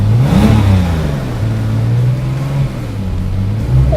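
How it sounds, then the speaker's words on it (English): A Porsche 997 engine, loud and close, revs from a low rumble into a rising howl before the pitch drops back and settles. It climbs again near the end, with no voices over it. "it gets a whole heap better once you switch it on and give the right foot a little bit of love"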